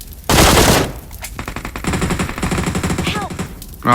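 Loud bursts of machine gun fire ring out in a video game, a long close volley followed by rapid rattling shots, with a brief voice near the end.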